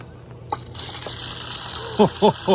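Water gushes from a pipe in a well house on a freezing night, about 31 degrees, as a sudden steady hiss that starts early and keeps running, with short voiced calls near the end.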